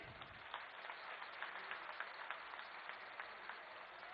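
A large outdoor political rally crowd in Azamgarh applauds to welcome Amit Shah, a continuous distant wash of clapping heard through a bandwidth-limited public-address or phone recording, faint overall.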